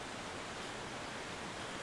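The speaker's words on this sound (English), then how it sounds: "And the river running very close by." A river runs very close by in a spring mountain setting on the way to Lake Serene, giving a steady, dense broadband rush of flowing water with no pauses or talk.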